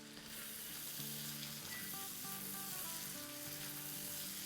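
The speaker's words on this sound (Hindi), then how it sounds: "देखिए हमारे आलूओं को भूनते हुए 1 मिनट हो गई है" Small potatoes frying in a pan for a vegetable korma, a steady close sizzling hiss throughout, with soft sustained musical tones running underneath and no talking.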